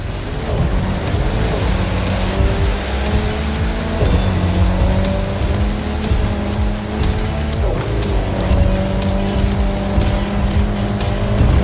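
Racing car driven hard through snow in The Crew 2 winter event, engine roaring steadily with rising and falling gear shifts and occasional tire squeals, loud and continuous with no talking.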